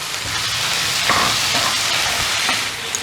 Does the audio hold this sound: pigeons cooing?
no